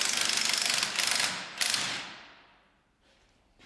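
A ratchet wrench loosening a bolt on a Jeep Rubicon JK: quick, loud, close clicking bursts in short runs, then trailing off into quiet with no talk.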